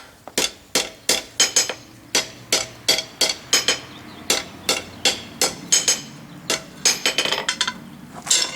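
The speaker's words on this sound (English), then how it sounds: "we'll start by hammering it shut just a little bit." Repeated sharp hammer blows on a hot steel bar while forging slot jaw tongs, ringing strikes in an irregular rhythm of single and double hits, close and loud with no talking.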